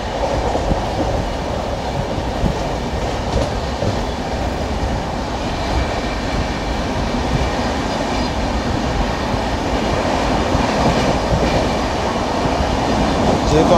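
The 12378 Padatik Express rolling through Masagram junction, a loud, steady rumble of wheels and carriages with faint rhythmic clatter throughout, heard from on board.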